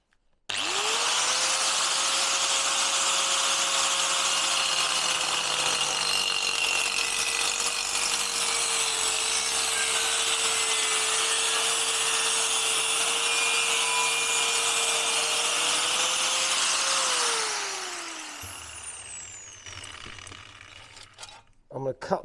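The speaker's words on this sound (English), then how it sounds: "I'm just going to chop the excess off to start with" Power cutting tool chopping excess material off a part during a Honda Benly bobber motorcycle dry build, a loud continuous whining grind lasting about seventeen seconds, then spinning down and fading to quiet.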